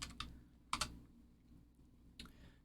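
A few quiet, close keystrokes on a computer keyboard, in small irregular clusters of clicks with pauses between them, over a low room hum and no voices.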